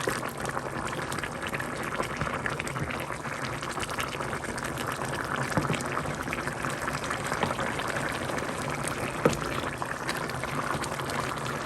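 Beef ribs with tomatoes simmer in a pot on the stove, giving a steady, dense bubbling and gentle rolling boil that stays even and close throughout, with no talking.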